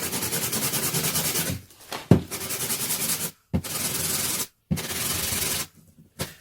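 Sandpaper rubs steadily over a paper ball being smoothed and polished, a close, dry scratchy rasping in continuous strokes broken by a few brief pauses and small knocks.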